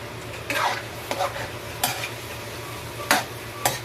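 A creamy coconut milk dish is stirred in a pan, with four or five close scraping strokes of a spoon over a low, constant simmer and hum.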